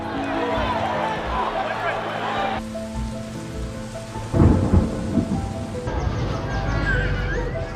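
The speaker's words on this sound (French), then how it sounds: "des sons de pluie, des sons de vent" Steady rain hisses throughout, joined by low rumbling gusts and a thunder-like swell midway, with faint voices underneath.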